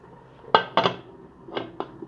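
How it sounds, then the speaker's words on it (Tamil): Metal clanks of a pressure cooker lid being set on and twisted shut, a few sharp knocks followed by lighter scraping clicks, close by. "இப்போ நம்ம மூடி வச்சுக்கலாம்"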